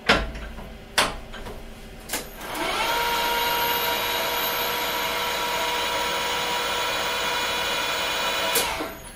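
Emco Maximat Super 11 geared lathe running at 1100 RPM, a steady mechanical whine with layered gear tones that starts after a few brief knocks and holds evenly, moderately loud and close, before cutting off near the end.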